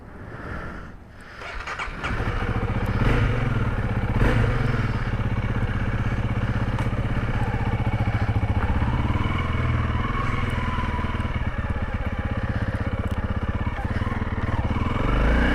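Honda CRF300L dirt bike engine running steadily and loud at close range for most of the stretch, after a brief quieter start, with a continuous buzzing drone and no talking.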